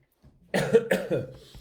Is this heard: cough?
yes